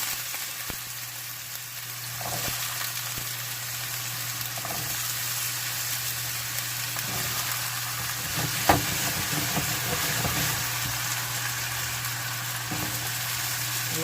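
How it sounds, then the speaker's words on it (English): Potatoes frying in a pan on medium heat for smothered potatoes, a dense, steady sizzle running throughout with a few soft clicks and one sharper knock near the middle. "you want to slowly just start adding the potatoes"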